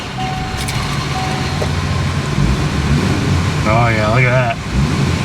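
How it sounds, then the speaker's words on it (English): A Subaru fitted with a newly replaced ignition switch runs nearby, its engine giving a steady low rumble, with a short warbling electronic tone partway through and someone speaking over it. "now I can just put the key in and just start the car."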